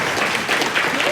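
Audience applause for a local mural artist at a Floral City heritage museum talk, a steady, dense wash of clapping that fills the short moment with a voice faintly audible beneath it.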